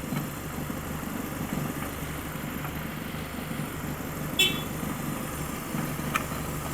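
A homemade CNG-fuelled car engine runs at a steady idle, giving a continuous low rumble and vibration throughout with a couple of brief faint clicks.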